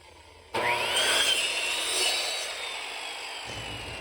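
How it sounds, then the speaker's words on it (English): A power saw cuts across a scrap piece of half-inch plywood to square the end, a loud steady whining cut of about three seconds that starts abruptly and then winds down, heard alone. "Now we're going to take a piece of scrap 1/2-inch plywood. We'll cut both ends square."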